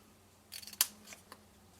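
Paper snips make a few quick, crisp cuts into paper while shaping a punched pansy flower, close and short, with one sharper snip standing out.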